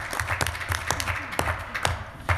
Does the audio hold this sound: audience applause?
yes